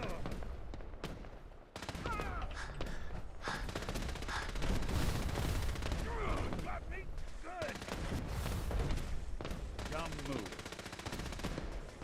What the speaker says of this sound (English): Gave Nick a Gatling laser